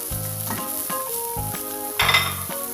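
Spiced coconut milk sauce for catfish pecak, with sugar and seasoning added, sizzles steadily in a pan while being stirred, with rhythmic scraping and clinks of the utensil against the pot.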